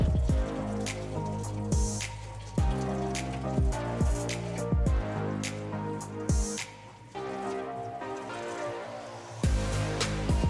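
Plastic keyboard keys are washed in warm water with dish soap, giving close, irregular splashes, drips and squishy sloshes with short pauses under a soft background of music.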